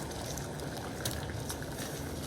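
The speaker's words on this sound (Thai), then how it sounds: "ต้มน้ำเดือดแล้วนะคะ" Water bubbles and churns at a steady boil, a dense, close gurgling texture with small pops and no voices.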